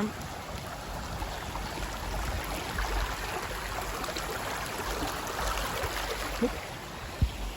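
A waterfall and stream pour continuously, a steady wash of falling water at moderate distance, with a couple of faint knocks near the end and no speech.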